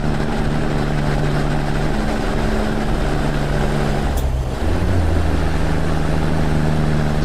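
Freightliner Cascadia semi truck pulling double 48-foot trailers in American Truck Simulator, its engine droning loud and steady under strain with a low rumble, a brief dip midway before the heavy hum returns.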